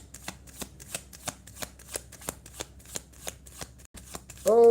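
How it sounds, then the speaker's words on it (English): A stack of cards is shuffled in a steady rhythm of crisp riffling taps, close and clear, with a voice starting just at the end. "I'll shuffle the stack one more time."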